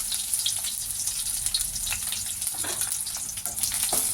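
Sliced onions frying in hot oil with cumin for bisi bele bath: a constant hissing crackle, close and loud, with occasional stirring clicks.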